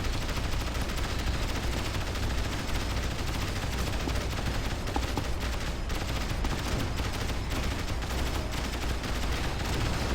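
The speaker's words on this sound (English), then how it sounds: "Guard tower opening fire on the thing." A guard tower opens fire in the real-time strategy game Rise of the Reds, a steady dense rattle of gunfire blended into constant battle noise, loud and unbroken throughout.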